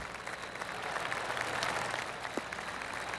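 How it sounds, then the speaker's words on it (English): Steady polite applause from a golf gallery around the course in PGA TOUR 2K25, a continuous patter of many hands at moderate distance, heard alone. "Oh, I can hear the golf claps around the course."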